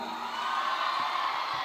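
A live audience of Mohanlal (Lalettan) fans at the Niracharth 2022 stage event cheers and whoops in a steady, dense roar of crowd noise that holds throughout.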